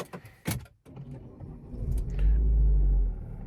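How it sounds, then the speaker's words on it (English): Renault Laguna Coupe GT 2.0T, a 2010 car with a 205 hp engine, cranking briefly and catching into a deep, steady idle rumble that swells loud and close, after some clicks and key-like rattles. "let's start the car up"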